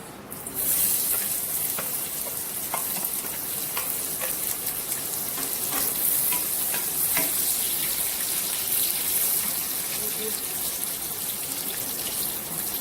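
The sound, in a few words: onions browning in hot oil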